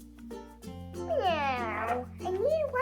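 A voice imitates a cat, giving a rising, sing-song meow over steady background hum.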